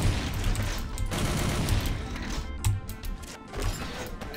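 An auto shotgun in a Doom mod fires in heavy, booming blasts amid crashing impacts and game noise, loud and close.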